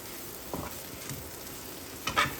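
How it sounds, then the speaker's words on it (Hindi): Shredded chicken sautéed in butter in a pan sizzles softly and steadily, with two brief louder scrapes as it is stirred and mixed. "तो अब मैं ये श्रेडेड की हुई चिकन जो है ये देखें इसे मैं डाल दूँगी।"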